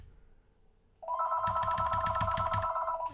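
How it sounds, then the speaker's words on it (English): A mobile phone starts ringing after a quiet second, its ringtone a loud steady electronic trill with a rapid pulsing beat, close by and with no voices over it. "And that is my phone."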